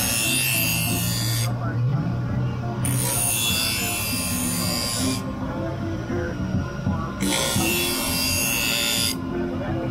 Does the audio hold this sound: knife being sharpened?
yes